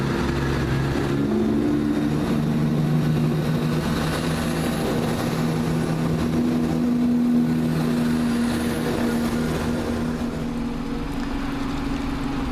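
A train departs Inverkeithing station for Edinburgh with a continuous loud diesel engine drone, a steady rumble with a faint rising tone as it pulls away.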